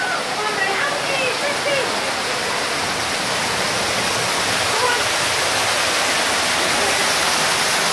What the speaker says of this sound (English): Waterfall. That stream is coming from there.